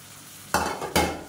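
Green chillies with mint and coriander sauté in a pan, with two distinct stirring scrapes and sizzle bursts close by and no talking.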